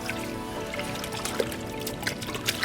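Hot water pouring steadily into a bucket to mix a rinseless car wash solution, a continuous trickling splash close by with a few small gurgles, no voices.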